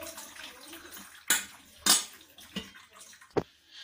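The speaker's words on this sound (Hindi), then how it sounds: "अब इसको थोड़ा सा पानी डाल के ठंडा कर लेंगे" Water poured from a container over cooked spinach to cool it, several short splashing bursts with quieter trickling and drips between them, close and without talk.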